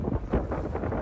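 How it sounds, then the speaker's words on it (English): Gusty wind buffets the microphone outdoors beside a parked 2025 Newmar Dutch Star 4325 diesel pusher motorhome, a steady low rumble with irregular surges and dips throughout. "it's windy today"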